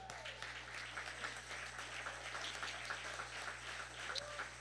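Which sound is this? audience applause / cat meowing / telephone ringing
audience applause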